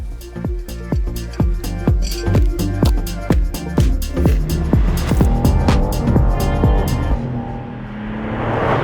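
A BMW M3 Touring wagon accelerates hard, its engine rising in pitch through rapid gear changes, each shift marked by a sharp drop, loud and close, with a smooth high-revving pull near the end.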